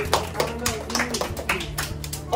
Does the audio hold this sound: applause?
yes